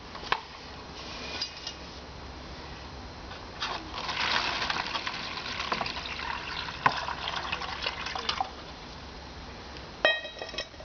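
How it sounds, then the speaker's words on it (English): Water is poured into the top of a Sawyer water filter and runs down into a bottle, producing a continuous gurgling, splashing stream with a few sharp plastic clicks and knocks from the gear. "You pour the water in through the top"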